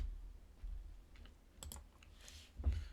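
Several soft keyboard taps entering numbers on a computer, a small cluster of clicks close to the mic over a low background hum.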